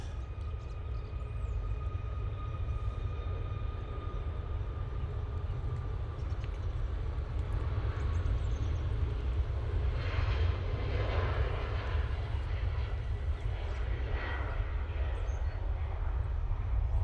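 Boeing 737 Max airliner on its takeoff roll at Manchester Airport, a steady, broad engine roar held at a distance for the whole stretch, swelling slightly toward the end with no talk over it.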